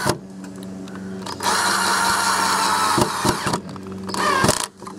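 Power drill driving pocket-hole screws into wooden table legs, a sustained motor whine in two long bursts with brief pauses and a final rev, close and fairly loud.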